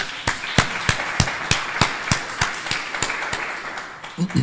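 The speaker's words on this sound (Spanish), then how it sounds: "Un aplauso para Dios," Church congregation claps along in a steady, even rhythm, sharp beats repeating about every third of a second with a dense wash of hands beneath, fairly close and loud, a few voices stirring near the end.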